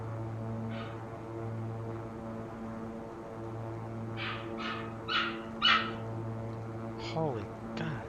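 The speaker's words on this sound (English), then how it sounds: "my dog would stop barking" A dog indoors barks in a few short bursts, one around the start and a cluster a few seconds later, moderately close, over a steady droning hum.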